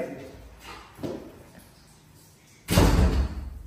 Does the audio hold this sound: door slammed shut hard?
yes